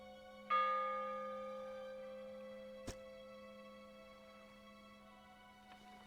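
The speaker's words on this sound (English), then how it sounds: "What's with the bell?" Bell struck in the Dredge fishing game, a single clear chime ringing out and sustaining for seconds with a slow decay, followed by a second fainter stroke midway through, heard alone without talk.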